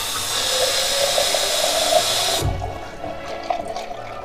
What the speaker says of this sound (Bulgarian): Така, пълним буркана с вода.